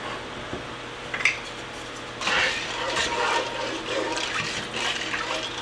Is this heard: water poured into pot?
yes